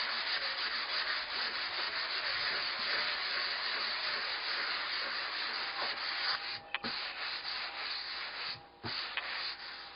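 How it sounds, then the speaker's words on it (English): Fine 220-grit sandpaper rubbed by hand over a hollow wooden door gives a steady, close, dry rasping scrape that runs almost unbroken, with two brief pauses near the end. "I'm going to switch to a finer sandpaper now. This is a 220."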